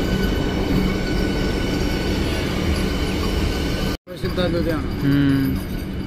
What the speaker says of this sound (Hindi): सेमी हाई स्पीड ट्रेन है, इंडिया की पहली वंदे भारत एक्सप्रेस।